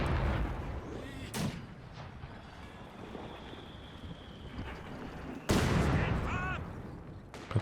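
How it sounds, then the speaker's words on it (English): Mortar and artillery fire from a Company of Heroes 2 match: sharp explosive thuds around 1.4 and 5.5 seconds over a steady rumbling battlefield bed, with distant gunfire and a faint whistling tone between. "Got the mortar doing some nice work there"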